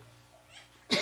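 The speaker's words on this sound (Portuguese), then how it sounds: "a tosse" A single sharp, loud cough bursts out close by at the end of a quiet pause in a Portuguese-language talk.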